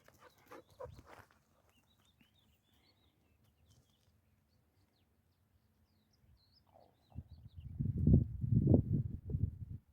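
A dog runs about outdoors along a wild coastline, its movement and rustling rising loud and close toward the end after a quieter stretch with a brief burst near the start.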